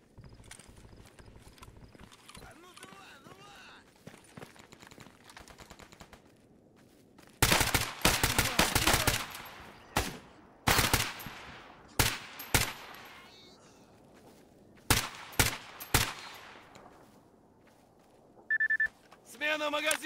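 Gunfire in the video game Stalker GAMMA: after a quiet, murmuring start, a run of loud, sharp shots in irregular single cracks and short clusters, with brief gaps between bursts.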